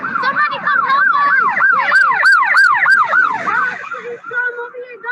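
An ambulance siren wails loudly and close by in a rapid rising-and-falling pattern, repeating cycle after cycle before fading slightly at the end.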